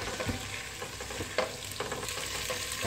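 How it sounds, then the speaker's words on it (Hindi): Chicken macaroni being stirred in a pan over a high flame, with a steady close sizzle and the scrape of a spoon turning the pasta, and no talking. "फ्लेम में मैं इन सबको आपस में मिक्स करूँगी अच्छे से"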